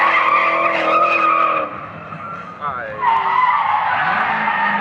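A car drifts at a street drift competition, with a loud, close engine whine and harsh tire squeal that dip briefly midway, then surge back as the skid resumes.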